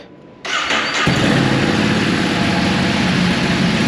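A Ducati Monster motorcycle engine fires up after a brief quiet moment, then settles into a loud, steady, throaty running rumble close by.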